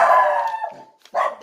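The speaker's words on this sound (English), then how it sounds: "The dogs." Dogs bark up close and loud: a drawn-out, howling bark trails off, then after a brief gap a second sharp bark bursts in.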